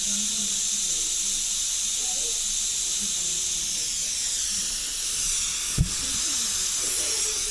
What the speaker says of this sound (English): you've got to move the vent over to the left now, which I've done, and that just opens the valve